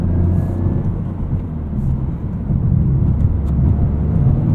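A 2023 Toyota GR Corolla engine pulling through short gears, a loud, steady low rumble and whir heard from inside the car, with no voices over it.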